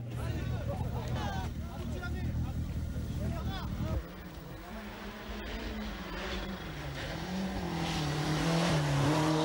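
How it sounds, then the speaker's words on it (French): Audi Quattro 90 rally car at the Monte Carlo Rally with gearbox trouble, engine roaring nearby then dropping and rising again as it drives past, under a commentator's voice. "Des ennuis de boîte et un joli coup de volant pour Paola De Martini sur son Audi Quattro 90."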